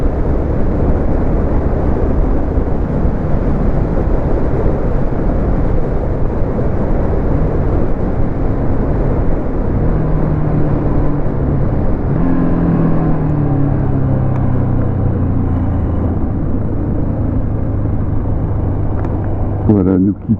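A Buell XB12X or Yamaha 600XT motorcycle accelerates on a country road in northern France, a loud, steady engine roar with rising drone near the end, heavy wind buffeting throughout.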